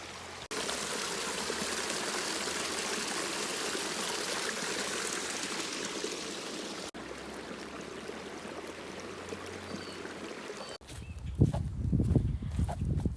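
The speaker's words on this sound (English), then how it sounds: "I'm going to see y'all when I get down to the creek" Creek water flowing in a steady, continuous rush heard up close, with a brief break and a burst of rustling handling noise near the end.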